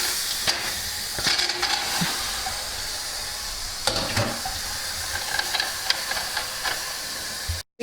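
Water runs from a tap into a pot of pork bones for spicy soup, a steady, moderately loud hiss with a few brief clanks and splashes.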